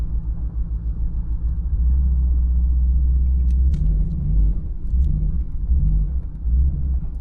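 A truck engine rumbles steadily while backing a trailer onto pavement after snow wheeling in British Columbia, a low continuous drone with slight swells of revving, close and alone.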